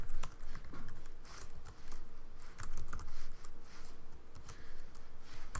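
Keys clatter on a computer keyboard in quick, irregular bursts of close, crisp taps, with short pauses between typed runs and no voices.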